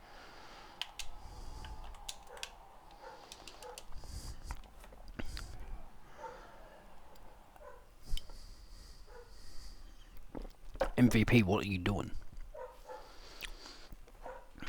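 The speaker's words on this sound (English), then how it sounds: "My dog's going off." A pet dog barks in a room behind a Smackdown Vs Raw 2009 wrestling game session, giving a short burst of loud, close barks late in the clip, with keyboard-like clicks and someone talking before it.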